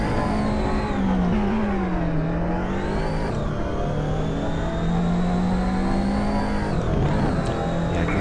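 A race car in the TORCS open-source racing simulator countersteers and drifts through a tricky chicane, its engine droning continuously with pitch rising and falling as the revs change, loud and steady throughout.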